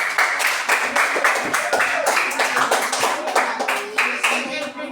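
Fifth-grade primary school children in a classroom clapping their hands together in a quick, steady rhythm, loud and close, with a voice partly mixed in.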